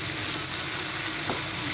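Tomato and coriander chutney ingredients sauté in a pan with a pinch of asafoetida, giving a steady, close sizzle and crackle that holds evenly throughout with no voices.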